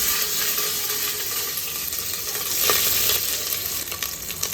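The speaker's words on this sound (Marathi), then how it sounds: "कुकरमध्ये आपण हे सर्व भाज्या परतून घेणार आहोत" Vegetables sautéing in ghee and oil with cumin in a pressure cooker for pav bhaji, a loud continuous frying sizzle with occasional stirring scrapes and no talk.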